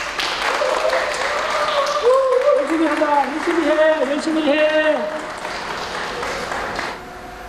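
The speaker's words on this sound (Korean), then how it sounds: "6월 1일 입사한 우리 친구 로봇 휴머노이드 윤용에게 큰 박수 부탁드립니다." Applause from staff welcoming a new humanoid robot employee at a company ceremony: steady clapping from a group continues throughout while people speak over it, with a few louder voices joining in.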